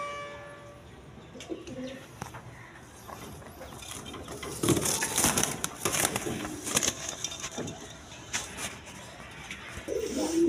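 Bombay pigeons coo softly at close range, low murmuring calls spread through the stretch amid rustling and faint mechanical clatter, with a few brief bits of speech nearby.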